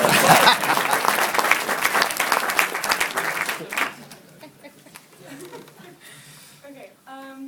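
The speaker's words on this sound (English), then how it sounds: "Let's clap it up." Loud applause from a town hall meeting crowd fills the first half, then dies away into quieter room noise with a few scattered sounds.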